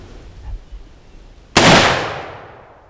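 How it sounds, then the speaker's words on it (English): A single loud rifle shot cracks out during a banteng hunt outdoors, sudden and sharp, then rolls away in a long fading echo, after a few quiet rustles. "Put a great shot on a young Banteng just then"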